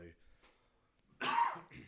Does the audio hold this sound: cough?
yes